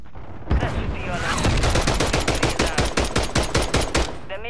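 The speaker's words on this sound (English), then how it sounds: "God, I love the grenade launcher." In Call of Duty, a rapid burst of gunfire rattles close and loud in a dense, even rhythm for about three seconds.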